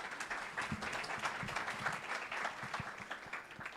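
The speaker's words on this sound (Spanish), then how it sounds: "Un aplauso," Audience applause at a tech conference panel in Spanish, greeting a speaker as she comes up; a steady wash of clapping from a room of people, moderately distant and continuous throughout with no talking over it.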